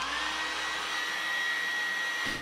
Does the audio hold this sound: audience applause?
no